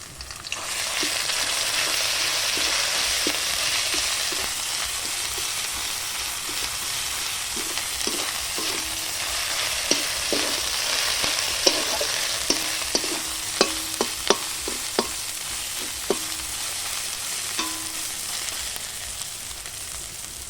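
Onion, garlic and ginger frying in a pan of hot oil, a steady bright sizzle under a run of sharp clinks and scrapes from a spoon stirring against the pan, growing busier midway.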